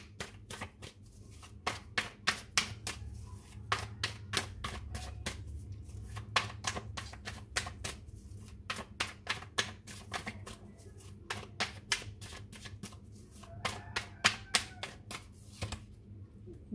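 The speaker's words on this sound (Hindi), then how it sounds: "मुझे अच्छे से कार्ड शफल करने।" Tarot cards being shuffled by hand, crisp riffling snaps repeating in a quick steady rhythm at close range, with no talk.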